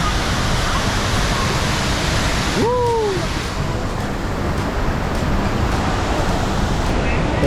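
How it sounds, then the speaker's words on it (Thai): A steady, roaring rush of a high-flowing waterfall, Huai Luang Waterfall, fills the scene, with a brief whistle-like tone cutting through once near the start. "ว้าวน้ำตกสวยมากครับผม"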